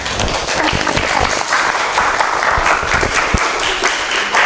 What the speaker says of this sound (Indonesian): Beri tepuk tangan untuk kelompok kita.